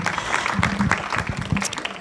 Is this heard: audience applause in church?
yes